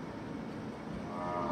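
Brahman cattle lowing at a calf show, a loud, sustained moo rising slightly toward the end, heard close with no talking over it.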